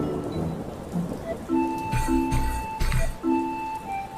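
A faulty air conditioner lets out sudden loud noises at random: steady whining tones with bursts of rattling, broadband racket that come and go over a few seconds, heard alone without talk.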